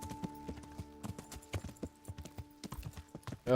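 A horse galloping in Kingdom Come: Deliverance, with quick rhythmic hoof clip-clops, close and steady over a low game hum, ending in a sudden louder burst.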